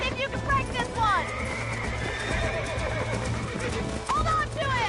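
A horse neighs and whinnies repeatedly while being broken in the Red Dead Redemption video game, with clip-clop hoofbeats, shrill rising calls near the start and end, and people talking throughout.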